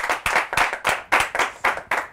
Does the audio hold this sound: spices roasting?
no